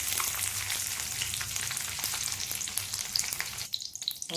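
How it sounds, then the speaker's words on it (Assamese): A few raisins fry in hot ghee in a wok, giving a dense, continuous close sizzle that thins out and turns patchy near the end. "ইয়াতে মই কেইটামান কিচমিচ ভাজি ল'লোঁ।"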